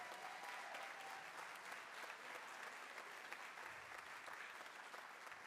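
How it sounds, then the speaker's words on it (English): Audience at a high school Drum Bash percussion event applauding the band directors, a steady, even wash of many hands clapping throughout, fairly distant and quiet. "Let's give a round of applause to them."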